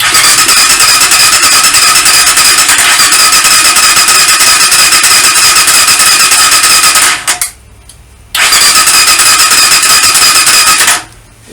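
A Kovi 300 Advance motorcycle engine that was hard to start runs loud and steady at close range, cuts out briefly, roars again and then drops off at the end, with no voices.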